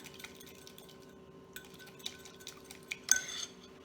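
Grilled corn and avocado salad stirred in a bowl, with scattered light scrapes and clinks of a utensil against the dish that grow into a brief louder clatter near the end.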